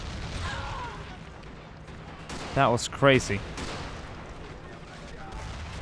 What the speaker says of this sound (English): That's a serious artillery strike back there in the distance.